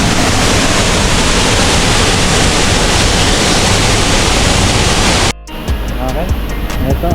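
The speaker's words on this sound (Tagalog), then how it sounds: "Kita yung falls." Hulugan Falls roars as a loud, steady broadband wash of falling water, then cuts off abruptly and leaves quieter outdoor ambience with faint voices.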